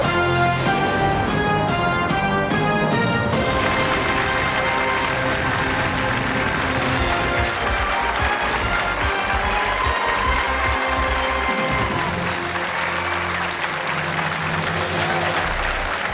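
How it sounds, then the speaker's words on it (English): Studio audience at the Who Wants to Be a Millionaire game show applauding contestant Phil, a loud sustained wall of clapping and cheering that holds steady throughout, with music playing over and under it. "Put your hands together for Phil"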